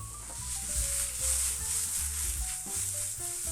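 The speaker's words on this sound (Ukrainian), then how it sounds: "Коли бекончик наш обсмажився, додаємо сюди гриби, додаємо трошки солі, додаємо перця, перемішуємо." Bacon and mushrooms frying and being stirred in a pan with salt and pepper, a steady close sizzle with scraping stir sounds throughout, no voices.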